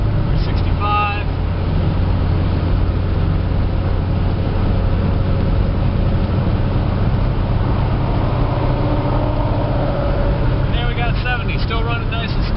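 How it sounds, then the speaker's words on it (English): Steady broadband rush of wind and road noise inside a lifted truck cruising at about 65 mph on the highway, continuous and fairly loud throughout, with a low engine-and-tire rumble underneath. "Obviously there we got some wind noise, but as far as vibrations go, it's a nice and smooth ride."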